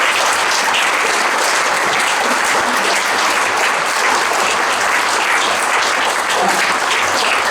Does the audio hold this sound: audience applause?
yes